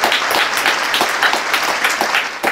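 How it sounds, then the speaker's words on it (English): A small group on a podcast breaks into hand-clapping applause, a loud, close run of quick claps lasting a couple of seconds without speech. "You gotta give me a hand clap for that"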